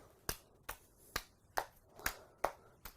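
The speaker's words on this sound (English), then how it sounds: "So I want you to clap, but each time turn your hand over and try and go nice and quickly" Quick, sharp hand claps from a patient alternating palm and back of hand, about seven evenly spaced slaps close up in a quiet room.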